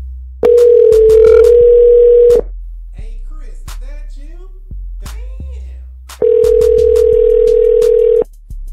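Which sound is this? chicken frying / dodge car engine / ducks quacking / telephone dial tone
telephone dial tone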